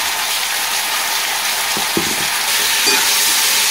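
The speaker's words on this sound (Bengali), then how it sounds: "ভালো করে নাড়াচাড়া করে আমি ঢাকা দিয়ে দেবো।" Green tomatoes with salt and turmeric frying in a pan, with a loud, steady hiss and sizzle throughout. A few soft scraping stirs come through partway, and no one speaks.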